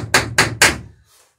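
Three sharp, loud hammer blows on rivet heads, evenly spaced, shaping them while cinching a plank down on a wooden boat, each strike ringing briefly before fading to quiet.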